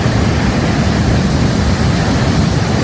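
A waterfall in Khao Yai National Park, Thailand, pours as a loud, close roar. The dense, constant rush of water fills every register, with deep rumbling beneath and no talking.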